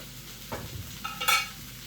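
Vegetables frying in a small pan, a soft sizzle with a few clattering stirs and a short bright clink, quiet and close.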